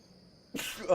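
A short, sudden sneeze-like burst from the city-builder video game Thrive: Heavy Lies The Crown after near silence, brief and moderately loud, ending in a faint squeaky tail.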